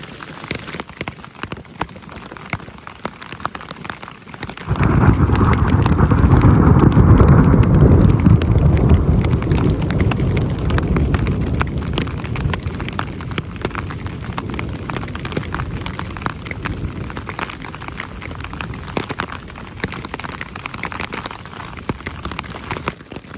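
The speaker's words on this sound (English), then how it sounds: "All hail. That's what's been hitting my tent." Hail drumming hard on a tent in the Sierra during a late-September storm, a dense rattling patter that surges to a loud roar after a quiet opening and then keeps pelting steadily, close and continuous.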